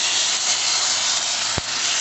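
Marinade poured into a hot pan of homemade seitan sets off a steady, loud sizzling hiss that runs throughout, with a brief thump near the end.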